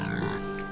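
Pigs grunt briefly and faintly in a farmyard, a short, low snuffling burst in the background.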